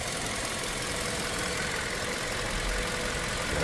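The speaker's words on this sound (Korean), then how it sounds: "엔진 소음이 심합니다." A Hyundai Sonata LPI running on LPG with about 300,000 km idles roughly and noisily, giving a steady, close engine drone with a knocking edge that holds unchanged throughout.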